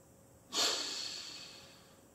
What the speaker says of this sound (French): J'exagère l'inspiration pour que vous compreniez bien la différence entre les deux techniques.